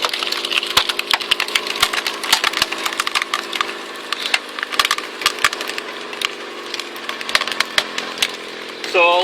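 A screw-type log splitter, a threaded cone driven by a car's wheel hub, bores into and splits wood, giving repeated sharp cracking and splintering snaps over a steady machine hum, close and fairly loud throughout.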